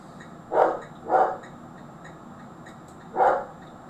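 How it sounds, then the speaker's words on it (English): A dog barks three times at a distance, two quick barks followed by a pause and a third. "Thor is going absolutely barking next door, literally barking."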